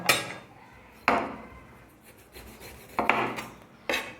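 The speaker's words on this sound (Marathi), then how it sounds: "हे अशा पद्धतीने बरोबर मधोमध हे असं कापून घ्यायचं" A knife slicing a black eggplant (brinjal) in half on a board, heard as four sharp close cutting strokes with rasping drags between them, no talk.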